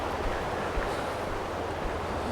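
A river rushes alongside a footpath in Wales, a steady broadband wash of flowing water heard close by, with some wind on the microphone and no voices.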